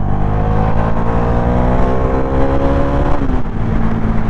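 A Bajaj Dominar 400 motorcycle accelerates hard in third gear during a drag race against an electric scooter, its engine note loud and close, rising steadily in pitch before a brief dip near the end.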